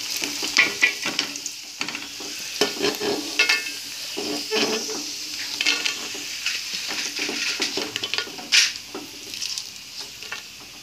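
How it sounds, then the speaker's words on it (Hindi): Sun-dried potato chips frying in hot oil give a steady close sizzle and bubbling, with scattered scrapes and clinks of a utensil stirring in the pan, no voices. "अब मैं आपको इनको फ्राई करके दिखाती हूँ।"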